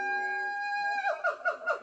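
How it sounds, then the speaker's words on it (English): Siamang gibbon call used as a stock monkey effect: a sustained, rising whoop that turns into four quick, falling hoots in a steady rhythm, clear and alone. "It's actually a gibbon called a siamang"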